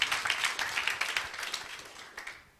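An audience in a church service claps together in a steady burst of applause. The sound comes from a crowd at moderate distance, fades near the end, and no one talks over it.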